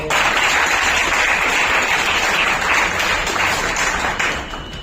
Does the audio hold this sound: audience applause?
yes